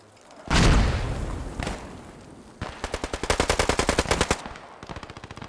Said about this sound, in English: Good mortars here.